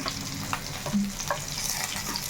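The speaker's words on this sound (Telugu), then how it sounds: "మనకి ఇప్పుడు చేప మొక్కలు చక్కగా వేగిపోయినాయి చూడండి" Pieces of fish frying in a pan of oil, a steady close sizzle with soft crackles and a few stir clinks, no voices.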